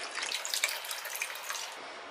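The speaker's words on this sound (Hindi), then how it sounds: "अभी इसमें पानी डाल देंगे।" Water is poured onto soaked dal and rice for Gujarati dhokla, making a close, steady splashing pour that runs for about two seconds.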